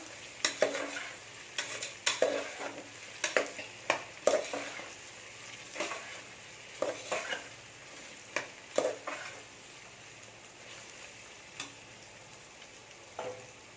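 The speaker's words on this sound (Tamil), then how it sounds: "2 உருளைக்கிழங்கு சின்னதாக கட் பண்ணி வச்சுருக்கேன். இதையும் போட்டு நல்லா வதக்கிக்கோங்க." Small diced potatoes sautéing in hot oil for a vegetable biryani, with a soft sizzle and repeated scrapes and clinks of a spoon stirring the pan, fairly quiet and close, with no talking.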